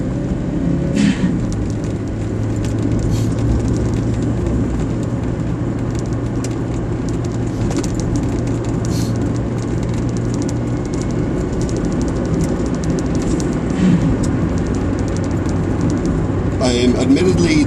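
A car fitted with an aftermarket blow-off valve is floored on the road, its engine a steady throttled roar under continuous road and wind noise, with brief whooshing bursts near the end.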